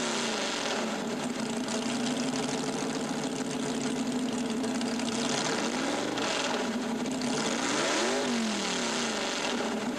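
A modified pulling tractor with giant tires and multiple engines runs with a loud, rough continuous roar, its pitch swooping up and down a few times near the end.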